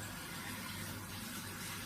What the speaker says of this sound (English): So I now go on to the cold water